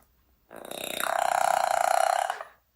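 A parrot mimics a human burp: one long, loud, gurgling belch-like rasp lasting nearly two seconds, close and alone with no other voices.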